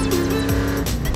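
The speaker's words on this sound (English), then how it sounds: "I can't believe I'm driving a real race car!" A race car drives past with a loud engine roar and a brief tire squeal, the motor note sweeping down as it goes by, close and dominant with no talk.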